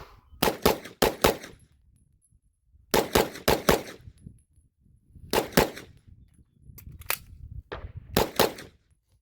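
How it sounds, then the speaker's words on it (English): Rapid pistol fire from an HK P30L LEM handgun, loud close shots in quick bursts of two to four with short pauses between strings, no talking. "the trigger is nice, so I'm able to get some pretty quick follow-up shots."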